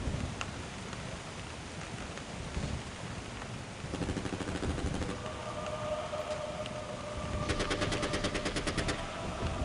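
Gunfire in the Chemical Existence remod of a video game: rapid machine-gun bursts, strongest in a fast even stream toward the end, over a constant rumbling noise bed, moderately loud with no talking.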